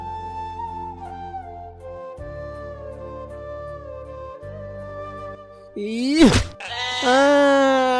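Sheep bleat loudly and close, a couple of wavering calls near the end, following a stretch of steady low tonal background.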